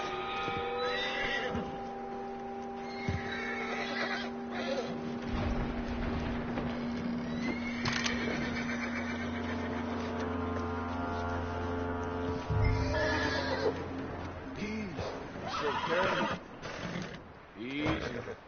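In Red Dead Redemption 2, a horse whinnies loudly amid hoof clops and shuffling, with a voice speaking over parts of the scene.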